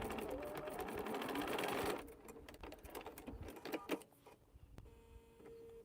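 A sewing machine stitches quilt pieces together in a quick, steady burst that stops after about two seconds, followed by faint handling clicks and rustles.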